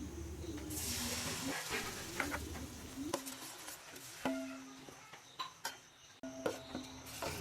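Squeezed tamarind juice poured into hot oil for a Kerala-style date pickle hisses sharply at first, then settles into a faint sizzle with scattered small pops and clicks, quiet and close.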